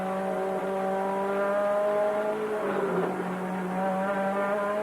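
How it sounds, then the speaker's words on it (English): Touring cars from the 1989 Australian Touring Car Championship at Amaroo Park diving into a right-hand corner, a steady high engine whine with a clear harmonic pitch that shifts down and swells briefly midway, heard from a distance. "Glenn Seaton dives into the right-hander at Dunlop Loop."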